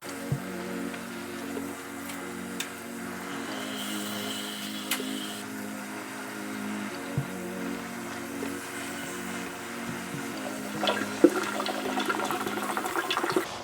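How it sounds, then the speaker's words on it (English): Water draining from a 40-gallon crab aquarium being emptied with a hose, a steady trickling and splashing flow with a soft continuous rush, fairly close and moderately loud, with no talking. "So I'm just finishing draining this, tidying this up, and then we're gonna get started."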